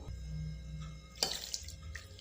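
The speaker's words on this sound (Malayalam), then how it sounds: "കുറച്ചുകൂടെ വെള്ളം ഒഴിക്കാം." A splash of water is poured into puzhukku cooking in a pot, a short burst of pouring and trickling after a quiet low hum.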